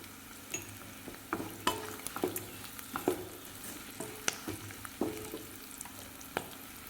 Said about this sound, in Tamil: கருவேப்பிலை சேர்த்து நல்லா வதங்கட்டுங்க. இதுலேயே உப்பு சேர்த்து வதக்கிக்கலாங்க.